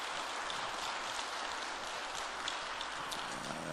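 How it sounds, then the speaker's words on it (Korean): A church congregation applauds its pastors with dense, continuous clapping that fills the room evenly from start to finish, steady and unbroken like rainfall. "송 목사님 또 우리 목사님에게 박수 한번 좀 보내겠습니다"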